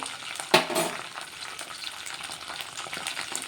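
Green chillies frying lightly in a pan for a spicy ridge gourd and tomato chutney, giving a soft continuous crackle with one sharp clatter near the start, alone without talk.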